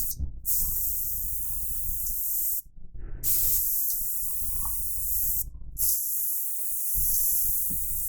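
An airbrush set wide open sprays paint for broad coverage, making a loud, steady, close hiss. The hiss cuts out briefly twice, leaving a low rumble underneath, with no speech.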